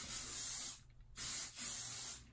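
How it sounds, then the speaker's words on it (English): Hairspray hisses from an aerosol can onto hair in two close, loud bursts separated by a short pause, with a brief softer puff at the end. "Spray a little hairspray on top"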